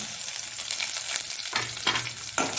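Steady sizzling of shallots and dried red chilies frying in hot oil, with a few scraping stirs toward the end.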